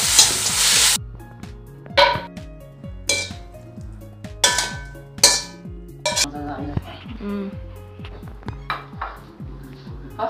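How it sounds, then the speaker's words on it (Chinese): Pork slices with king oyster mushrooms and chopped chives are stir-fried in a wok: a steady sizzle under rhythmic scraping and clanking of a metal spatula against the pan, close and fairly loud. "翻炒出锅。"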